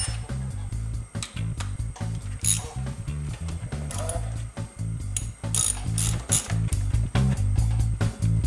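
Hand ratchet snugging brake bolts on a 2006 Yamaha Grizzly 660 ATV, a rapid run of loud clicking pawl ticks in bursts with brief pauses, close up and without speech.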